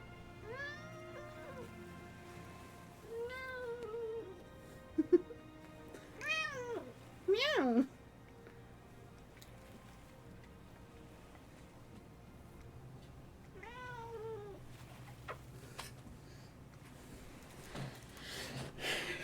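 Several cats meow in turn, some short and rising, others drawn out and wavering, fairly close over a quiet room hum with long gaps between calls.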